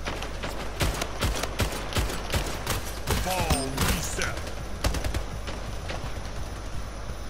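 Rapid bursts of gunfire from the arena shooter Splitgate, dense repeated shots with sci-fi weapon whines across the whole stretch, with a player's voice talking over the game action.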